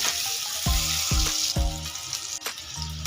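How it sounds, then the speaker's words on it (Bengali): Steady sizzling of potatoes frying in hot oil, close and continuous, with a few soft clinks of a utensil against the pan. "এবার আলুগুলো লাল করে ভেজে নেব।"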